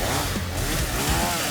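A chainsaw revs in an animated battle between Jujutsu Kaisen's Yuji and Chainsaw Man's Denji, a loud, continuous, buzzing engine drone that fills the clip with no talking.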